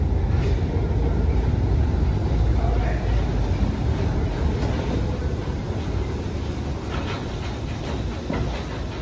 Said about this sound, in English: Let's ride the subway to Russel first.